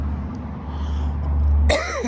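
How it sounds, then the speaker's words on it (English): A single rough cough bursts out near the end, loud and close, after a stretch of low rumbling background. "got a cough"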